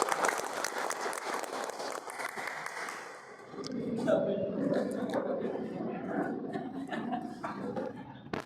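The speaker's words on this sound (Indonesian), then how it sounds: "Tepuk tangan." Students applauding in a vocational high school classroom: several seconds of lively clapping that thins into scattered claps under loud, overlapping chatter and voices.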